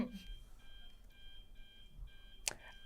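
An alarm sound effect goes off in repeated short electronic beeping bursts with brief pauses between them, fairly faint, with a sharp click near the end.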